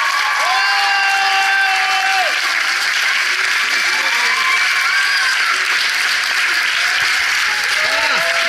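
Audience applause at an outdoor African music event in Borovany, a dense and loud wash of clapping with cheers mixed in. It holds steady throughout while a voice speaks over it.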